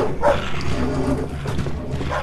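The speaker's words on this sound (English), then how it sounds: "You can hear 3 distinct dogs barking behind that invisible chain." The invisible three-headed Cerberus in a video game barks from behind an invisible chain, with several loud, close, overlapping barks and growling yips over a short stretch.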